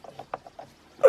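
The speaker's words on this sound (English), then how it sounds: "So I'm going to put the ratchet on here." A ratchet wrench loosening a nut gives a few quiet, separate clicks spaced irregularly, followed by a louder metallic burst at the end.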